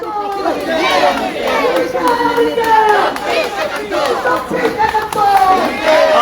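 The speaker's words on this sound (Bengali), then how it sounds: "এই বিক্ষোভ মিছিল করা হচ্ছে ঢাকা বিশ্ববিদ্যালয়" A loud protest march crowd at Dhaka University chants continuously in rhythm, many voices shouting together against the acquittal of ATM Azharul Islam.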